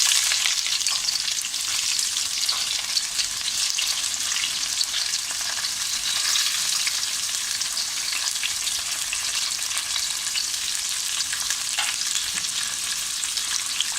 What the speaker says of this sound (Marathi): व्यवस्थित असं त्याला ब्राऊन कलर येईपर्यंत आपल्याला छान असं तळून घ्यायचं आहे